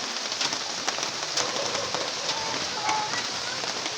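Steady rain falls and patters on a surface, a continuous close hiss with faint scattered drops, with a little background voice activity.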